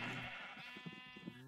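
A single sheep in Minecraft lets out one drawn-out, wavering bleat, close and clear, fading at the end with no voices over it.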